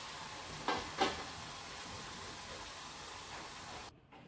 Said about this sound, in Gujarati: હું આ બીજા નાખું, આ 2 તળાઈ જાય.